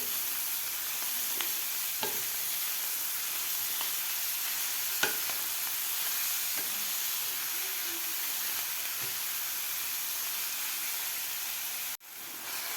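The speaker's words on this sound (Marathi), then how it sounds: "आपल्याला व्यवस्थित मिक्स करून घ्यायचे आहे खालच्या मसाल्यामध्ये मेथी" Chopped fenugreek leaves being mixed into frying masala, a steady hissing sizzle with occasional soft stirring clicks and scrapes, moderately close, ending in a brief sharp knock, no talking.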